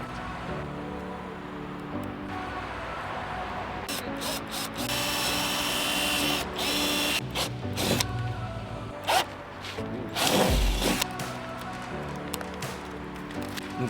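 Power drill boring holes through a stencil during a build, with several short bursts of whirring and grinding, one louder near the end, over steady background noise and handling rubs.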